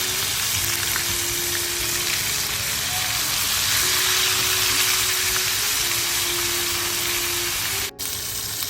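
Fish fries in hot oil in a pan with a steady, dense sizzle that holds loud and close throughout, accompanied by a faint tonal hum.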